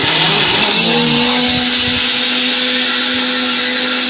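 A kitchen blender grinds ten to twelve pistachios into a fine paste. The motor whines steadily and loudly for the whole stretch, with a high, even pitch and no talk over it.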